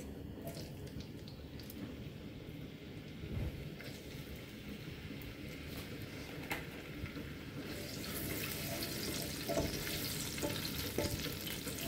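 Garlic frying in a pan while cooking chicken feet adobo, giving a steady close sizzle that grows louder and brighter toward the end, with occasional clinks of a utensil.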